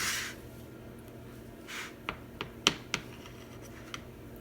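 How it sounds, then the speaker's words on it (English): A knife cuts through a slice of eggless chocolate chip cake, giving a handful of soft, brief scraping clicks spread over a few seconds, fairly faint and close with no talking. "So what I'm gonna do, I have a knife. I'm gonna cut it and eat it."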